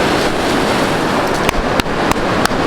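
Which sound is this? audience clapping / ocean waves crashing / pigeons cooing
ocean waves crashing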